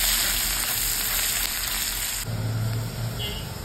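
Onion frying in a pan gives a continuous bright sizzle that holds steady, then softens and thins partway through, with no talking.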